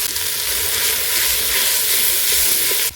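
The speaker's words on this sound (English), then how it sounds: "I'll fry my onions to golden brown" Onions and grated carrots sizzle and fry steadily in a pot over a village cooking fire, a continuous close crackling hiss with no talk.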